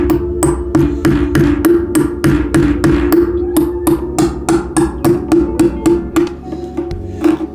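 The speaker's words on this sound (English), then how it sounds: "I'm gonna use the hammer." Repeated hammer blows strike a cheap metal gadget in a steady, fairly quick rhythm, loud and close, each hit ringing briefly with a metallic clank.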